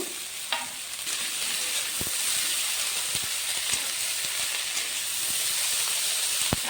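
Drumstick flowers hit hot oil in a pan for a vegetarian Bengali dish and give a steady, close sizzle and hiss, with a few light clicks of stirring.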